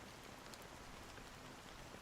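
Steady black rain drizzling over the sea in Honkai Star Rail, a dense, even hiss of drops pattering on surfaces, continuous and close with no voices.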